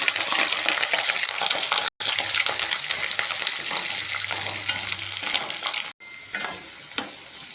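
Curry leaves, cashews and small pieces of ginger fry in hot oil as a tempering for vegetable pongal, a loud close sizzle with scattered pops and spatters, briefly cut twice.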